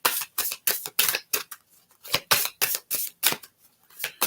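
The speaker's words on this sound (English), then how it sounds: "You guys can hear me shuffling." Tarot cards are shuffled by hand close up in a quick, regular run of crisp riffling bursts, roughly three per second, with nothing else heard.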